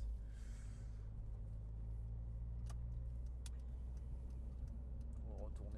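A Honda Civic Type R EP3, production ending in 2006, drives along with a steady low engine rumble and road noise filling the cabin, while someone talks over it.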